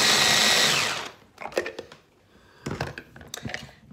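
Electric kitchen chopper dicing an onion: a loud steady motor whir for about a second, then irregular chopping thumps and clatter in short bursts, close up with no voices.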